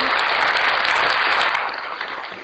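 Steady, dense hand clapping carries on for a couple of seconds and eases slightly toward the end, with no voices over it.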